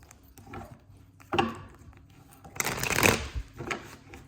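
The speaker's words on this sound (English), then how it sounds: "one more shuffle" A tarot deck is shuffled by hand, with a brief riffle followed by a longer, louder burst of flicking, rustling cards, close by and otherwise quiet.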